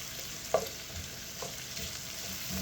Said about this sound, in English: Now we want our pancetta to get cooked